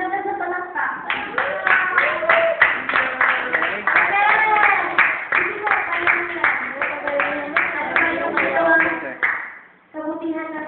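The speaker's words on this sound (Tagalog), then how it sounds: "Jerry, kulang na sa palakpak" Church congregation clapping in a steady, rhythmic burst for several seconds, loud and close, with voices mixed in, then breaking off briefly near the end.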